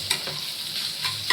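Bottle gourd fries in a pan with a steady, close sizzle, broken by a few quick scraping stirs of a spatula.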